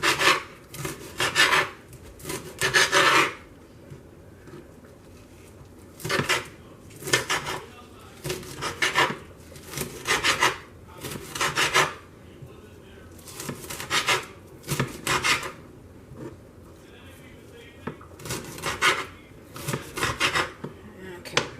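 A knife cutting up smoked meat on a board for black-eyed peas, in repeated bursts of scraping, rasping strokes separated by short pauses, fairly close and steady with no talking.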